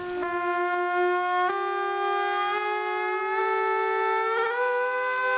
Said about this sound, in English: It's a siren that for 300 years has told anyone in the park that the water games are about to begin